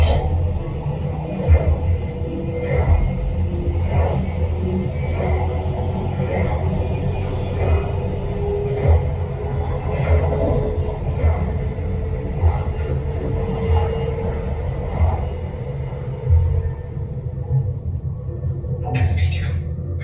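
Steady low rumble from the simulated Mark V Stellarvator space elevator ride at the Space 220 restaurant in EPCOT, continuous throughout with a voice talking over it.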